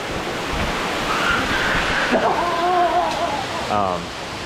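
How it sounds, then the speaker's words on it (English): A waterfall in Hong Kong sends out a steady rushing wash of water noise, with people talking over it toward the end. "Look at that waterfall."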